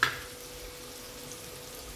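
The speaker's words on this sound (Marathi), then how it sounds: "तर आता कांदा थोडा शिजवून घ्यायचा आहे आपल्याला।" Chopped onion frying for pav bhaji sizzles softly and steadily in a pan, faint and continuous after a brief clatter at the start.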